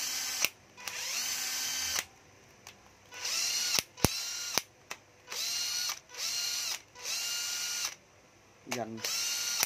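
A Panasonic EZ7542 cordless drill whirs in repeated short bursts of close, loud motor whine with pauses between triggers, a sharp click in the middle and a brief voice near the end.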